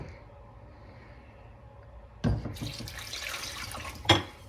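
Water pours into a pan of sugar for rock candy after a quiet start, a sudden splashing gush that runs for a couple of seconds before a final splash near the end.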